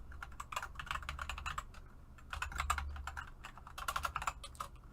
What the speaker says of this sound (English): let me just type it in for you